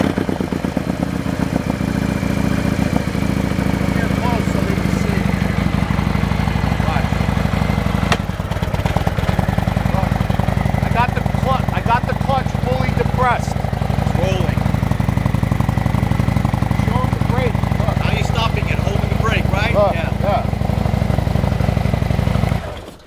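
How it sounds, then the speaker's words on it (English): A Harley-Davidson Road Glide performance bagger, a motorcycle whose clutch fails to disengage, runs with a loud, close, steady engine drone. It rumbles continuously and evenly throughout. "I'm gonna start the bike and then I'm gonna depress the clutch, put into first"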